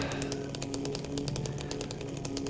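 Chainsaw in the video game Silent Hill 2, a steady, loud, buzzing engine drone running without a break, with rapid rhythmic pulsing throughout and no talk over it.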